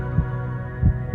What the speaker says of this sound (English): Love and fear can both get the heart pounding.